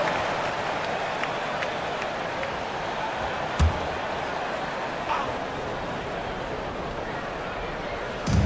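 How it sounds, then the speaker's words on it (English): A basketball arena crowd applauds and murmurs during a timeout, a broad steady wash of noise with a few sharp thuds and knocks cutting through. "Give yourself a round of applause."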